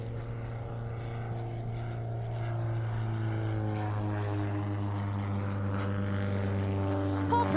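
A Christen Eagle aerobatic airplane's engine drones steadily in flight at the Sun 'n Fun 2021 air show, a constant propeller hum at moderate distance that swells slightly louder toward the end.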